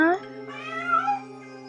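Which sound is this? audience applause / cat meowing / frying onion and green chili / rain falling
cat meowing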